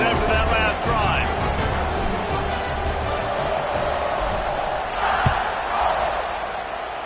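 A college football video game stadium crowd roars as a steady, loud wash of cheering during a kickoff, with faint whoops rising from the din.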